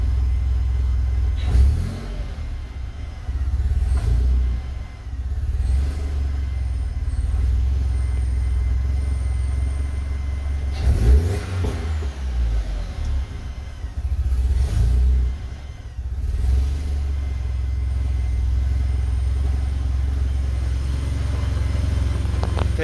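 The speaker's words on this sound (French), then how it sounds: "Je donne un coup de gaz, puis je le lâche sec" A Mk1 Rabbit with a 1.8t 20v engine rumbles steadily, with brief bursts of revving that fall back to a low, uneven idle across the clip.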